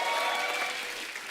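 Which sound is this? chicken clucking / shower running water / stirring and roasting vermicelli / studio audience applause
studio audience applause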